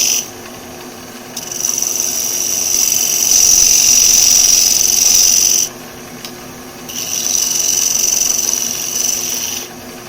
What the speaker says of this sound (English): however much I want to cut off at once with the box scraper I'm in more control of.